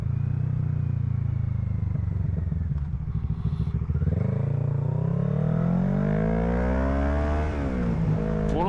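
A Kawasaki Ninja 400 motorcycle engine drones steadily while riding, then revs up through rising gear pulls, loud and close, with no voices.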